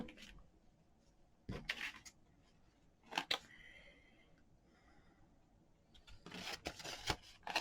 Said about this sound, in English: I think I'm going to cut this in half